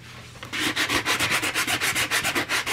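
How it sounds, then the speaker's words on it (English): Rapid, rhythmic rasping strokes of a nail file block sanding a surface, about a dozen back-and-forth rubs, close and clear after a brief quiet start. "it's a perfect tool to sand off that extra bit too"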